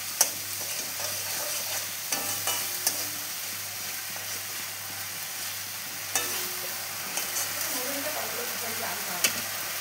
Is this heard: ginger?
yes